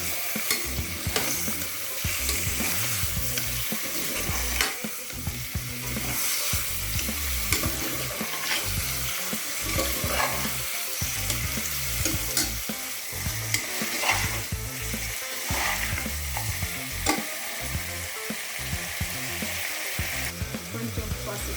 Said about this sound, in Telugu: అల్లం, తెల్లగడ్డ వేగిన తర్వాత చికెన్ వేసుకుంటాం.